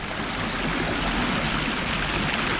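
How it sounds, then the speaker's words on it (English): Flowing water of a city creek near a tunnel, a steady, close, broadband rush with a constant trickling texture and no voices. "Now this is a city creek"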